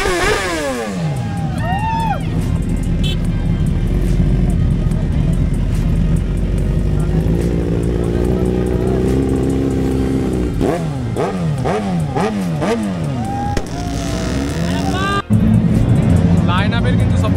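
A neon-yellow-wrapped BMW S1000RR superbike pulls up at a roadside dhaba, its engine revving loudly in rising and falling sweeps close by, with people talking over it throughout.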